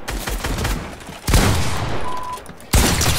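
Video game gunfire comes in bursts of rapid shots, with two sharp loud volleys starting partway through and near the end, each followed by a decaying rattle. No one speaks.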